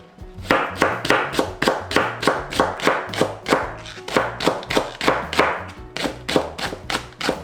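A knife mincing green chili and other ingredients for a perilla leaf dish on a cutting board, steady rapid chops thudding in an even rhythm, close and clear with no talking.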